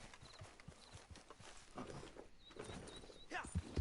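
Horse hooves clip-clopping in the Red Dead Online video game, a faint irregular series of soft hoof thuds at walking pace, quiet and somewhat distant, with a few louder knocks near the end.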